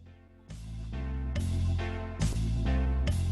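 A slow, deep polka bass line plays alone, with held low notes changing every half second or so in a simple repeating pattern.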